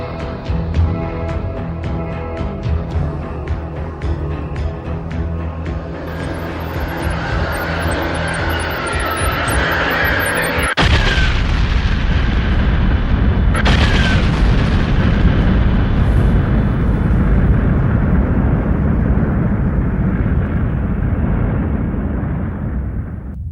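A supernova explosion sound effect: a deep roaring rumble builds, then a loud explosive blast hits and a heavy, sustained roar follows before slowly fading.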